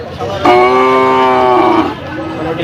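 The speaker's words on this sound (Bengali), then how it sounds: "এই যে এগুলো অসংখ্য পরিমাণে গরু আছে" A single loud, close low moo from cattle at a Bangladeshi cattle market, lasting over a second above a steady murmur of crowd noise.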